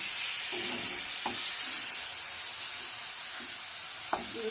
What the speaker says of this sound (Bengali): লবণ দিয়ে দিলাম হাফ চামচ ভালো করে নেড়ে দেব টমেটোটা একটু গরম হতে দেব